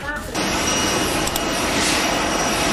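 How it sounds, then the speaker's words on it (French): A presidential jet airplane departing, a loud sustained broadband jet roar that swells in after a brief quieter moment and holds steady, close and filling the scene. "l'avion présidentiel de Donald Trump a mis cap sur le Qatar"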